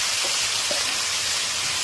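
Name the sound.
marinated chicken sizzling in hot oil with bay leaf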